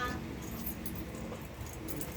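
A bunch of keys jingles and clinks in short bright bursts over steady indoor background noise, close by, with no clear talking.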